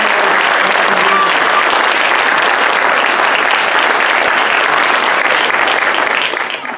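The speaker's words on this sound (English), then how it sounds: "So, another round of applause," Loud, dense applause from an audience at a startup challenge finale, honoring the participants, filling the whole stretch steadily before tapering slightly at the end.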